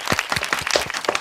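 A podcast audience gives short, scattered applause to welcome a guest: a brief burst of close, sparse hand claps.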